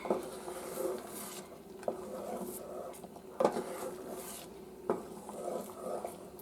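Gravy sizzles and bubbles in a hot pan with a soft hiss, while a utensil scrapes and stirs at a few regular intervals.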